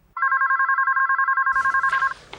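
A loud electronic telephone ring trills rapidly and continuously for about two seconds, then cuts off as background noise rises.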